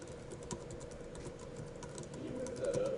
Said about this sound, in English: that's a lot of typing, right?